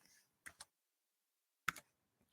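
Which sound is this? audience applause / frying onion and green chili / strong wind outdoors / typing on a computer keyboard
typing on a computer keyboard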